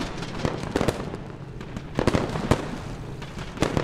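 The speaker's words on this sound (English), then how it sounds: "I'm really happy about these explosions." Battle explosions in a military video game set during a Marine assault on Fallujah, with repeated sharp cracks and booms popping irregularly at mid distance over a constant rumbling background.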